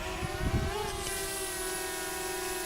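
A continuous high-pitched whine of a small drone's propellers hovering close by, steady and unchanging after a brief low rustle at the start.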